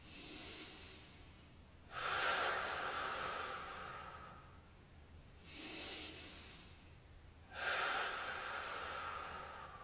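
Slow, deep yoga breaths during a seated spinal twist: three long, airy hissing inhales and exhales rise and fade over several seconds each, close and fairly quiet, with no talking.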